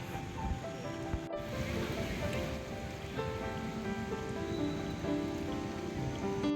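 Steady rain falls in a forest area during the rainy season, a dense, even patter running through the whole stretch at moderate loudness with no speech over it.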